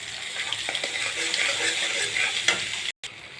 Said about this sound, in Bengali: মশলাগুলো ততক্ষণ কষবো যতক্ষণ না মশলা করে তেল বেরোয়।